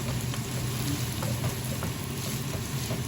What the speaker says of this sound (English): So this is one of those meals you can do very easily on a cast iron frying pan.